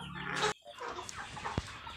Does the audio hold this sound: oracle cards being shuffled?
no